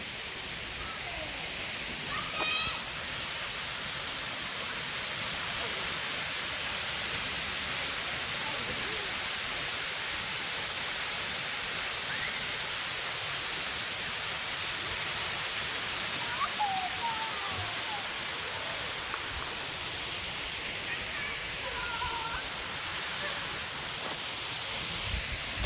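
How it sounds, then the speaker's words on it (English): A waterfall roars in a steady, broadband wash of falling water that stays unbroken for the whole stretch, with faint voices and bird-like chirps barely poking through. "Check out this waterfall."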